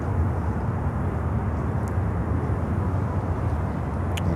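Virgin Atlantic Airbus A330-900 landing after a flight from London Heathrow, a steady broad jet roar that holds at an even, moderately loud level throughout with no voices.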